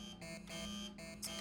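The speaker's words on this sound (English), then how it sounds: "Error list doesn't stop beeping" Electronic error beeping from the video game Fried Circuitry, a repeating pulsed alarm tone in short on-off bursts, faint and steady with no talking.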